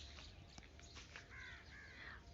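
Crows cawing at a morning feeding in fog, several harsh calls overlapping at a moderate distance against steady outdoor hiss.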